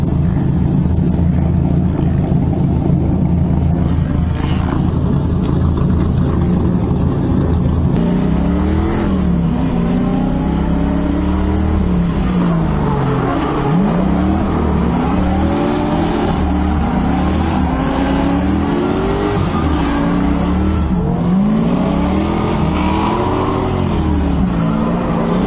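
Drift car engine revving hard at a drift event, the pitch rising and falling in repeated aggressive sweeps over a loud, sustained drone, close and continuous with no talking.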